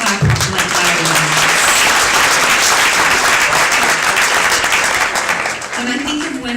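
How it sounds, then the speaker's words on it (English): An audience at an awards ceremony honoring a forgiveness award recipient claps loudly and steadily throughout, a dense sustained wash of applause with a voice briefly audible near the start and end. "you guys can clap like that"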